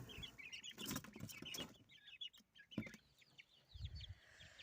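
Young chicks cluck and chatter softly near at hand on a smallholding, with scattered chirps and small bird calls over a quiet outdoor background.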